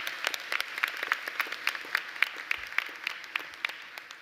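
Graduation-ceremony audience applauding academic excellence recipients, a steady patter of many hands clapping with distinct individual claps standing out, moderately distant in a large hall.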